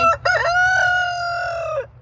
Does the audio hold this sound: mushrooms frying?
no